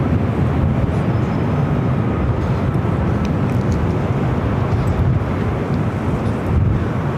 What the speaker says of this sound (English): WestJet 737 MAX 8 coming in from Calgary.